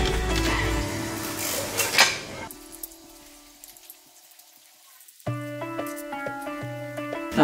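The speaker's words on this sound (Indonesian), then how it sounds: "Dan bagian depan kita taruh lagi piringnya" Ceramic plates and bowls from a dinner set are set down into a parcel box, with clinking impacts at the start, a quieter stretch, then a burst of ringing ceramic knocks near the end.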